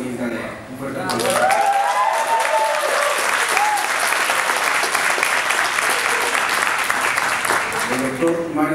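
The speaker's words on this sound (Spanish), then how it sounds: "Un fuerte aplauso" A university graduation audience breaks into loud, sustained applause after a brief moment of speech, a dense crowd clapping that fills the hall and holds steady for several seconds.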